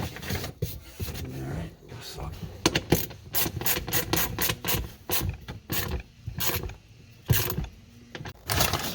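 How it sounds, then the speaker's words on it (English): Hand tools clicking and ratcheting while a latch is bolted onto a toolbox lid for a Jeep Wrangler, with busy metallic rasps, clanks and bursts of mechanical noise, close and steady throughout. "Okay, so we get the latch bolted to the lid."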